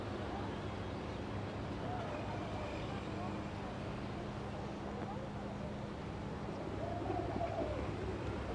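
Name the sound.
pigeons cooing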